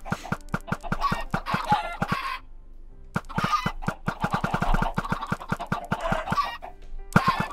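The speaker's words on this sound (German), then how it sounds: "jetzt werden ein paar Hühner wieder erstellt" Minecraft chickens cluck in rapid, clipped bursts, several birds overlapping in quick rhythmic runs with brief pauses, fairly close and clear.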